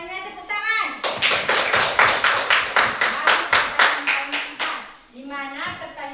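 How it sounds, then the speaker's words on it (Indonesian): Children in a classroom setting clap together in a steady, rhythmic unison beat, about a dozen loud synchronized claps, with young voices talking briefly before and after. "Tepuk tangan."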